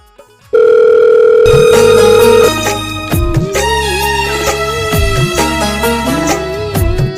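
A loud steady telephone tone sounds for about two seconds, then electronic music with a wavering melody plays on.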